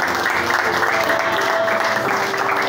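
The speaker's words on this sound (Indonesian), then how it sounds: "Beri tepuk tangan untuk kalian dahsyat" A church congregation at a Christmas service claps in a full, steady round of applause, with a faint sustained musical tone and murmuring voices underneath.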